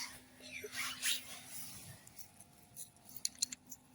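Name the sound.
poker chips clinking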